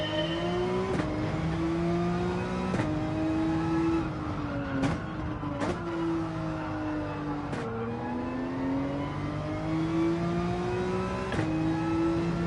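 A race car engine from Gran Turismo 7 drones steadily, pitch rising through the gears and dropping at each shift, with no voices.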